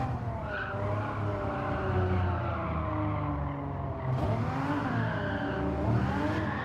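Engine of an old-school TVR racing in Gran Turismo 7 holds a loud, continuous drone with shifting pitch and a gear change near the middle, mixed with tire skid and squeal.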